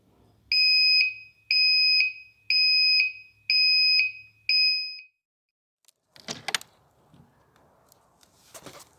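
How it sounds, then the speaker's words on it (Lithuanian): A dashboard alarm buzzer on an OMC 235 boat is tested: five loud, evenly spaced shrill beeps, each about half a second, followed by a few quieter clicks and clunks. "Na ir dar galim pabandyti kokį nors aliarmą."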